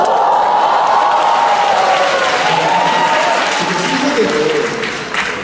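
Live concert audience applauding and cheering loudly at a Korean music performance, dense sustained clapping with scattered whoops, gradually fading near the end, with a held musical tone underneath.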